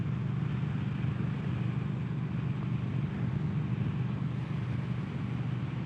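A Triumph Thruxton 1200 motorcycle rides along with a steady low engine rumble mixed with wind noise, constant and close throughout.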